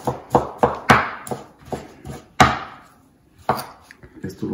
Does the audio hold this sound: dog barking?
no